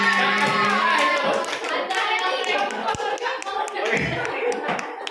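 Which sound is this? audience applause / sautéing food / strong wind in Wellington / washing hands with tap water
audience applause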